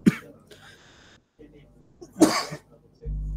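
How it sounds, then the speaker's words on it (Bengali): A person with a cold lets out a couple of sharp, close coughs with throat-clearing, separated by quiet pauses and a brief low rumble at the end. "টানা কাশি, কথা বললে কাশি হয়"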